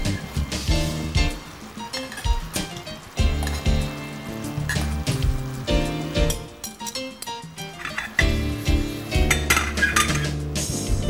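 Bananas being flipped in a hot pan during flambéing, with repeated metallic clinks of utensil against pan over a faint sizzle, close and busy throughout.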